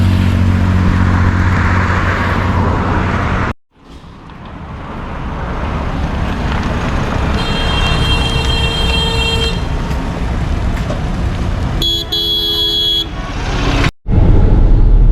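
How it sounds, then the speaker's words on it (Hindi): A car speeds along the highway from Darbhanga to Patna: loud, steady road and engine roar throughout, with a few horn toots partway through and two brief cut-outs. "तो हम हाईवे पर रफ्तार भर रहे हैं और जा रहे हैं दरभंगा से पटना की तरफ"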